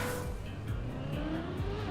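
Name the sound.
race car accelerating in Trackmania video game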